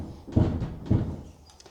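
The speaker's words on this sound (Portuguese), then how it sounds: "Vou fechar a porta às chaves, reparem" A kitchen door being shut and locked with keys: two close knocking thuds with rattles about half a second apart, then faint small clicks, with no talking.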